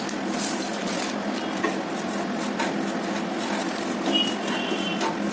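Semolina being stirred as it fries in ghee in a kadai over low heat, a continuous dry scraping and rustling with light clinks of the spoon against the pan, steady and close.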